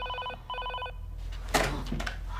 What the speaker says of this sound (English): rings can be heard periodically over the phone